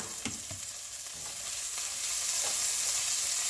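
A spoon stirs pepper and garlic salt through food sizzling in a hot pan. Scraping strokes sit over a loud, steady frying hiss that builds slightly, close up and with no talking.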